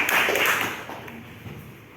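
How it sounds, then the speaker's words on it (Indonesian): Applause in a classroom for a group's performance, a short burst of many hands clapping that quickly fades to a few scattered claps. "kita kasih aplaus untuk penampilan dari kelompok 3"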